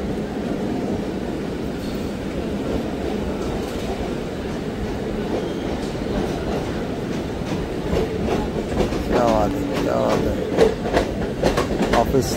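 A Panchavati express train runs toward Mumbai with a steady, loud rumble of wheels on track heard from inside the carriage. Rhythmic clickety-clack beats grow more distinct toward the end over the constant roar.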